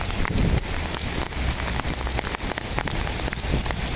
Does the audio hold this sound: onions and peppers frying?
no